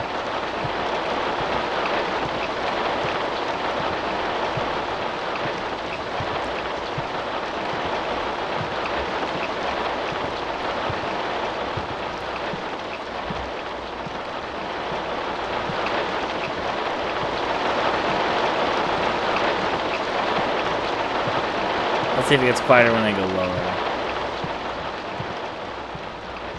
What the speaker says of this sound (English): I do not remember the rain being this goddamn loud when I previously was playing.